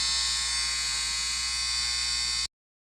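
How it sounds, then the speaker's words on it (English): A loud household clothes dryer runs with a steady, continuous electric hum and hiss, unbroken for about two and a half seconds before cutting off abruptly. "that dryer was loud"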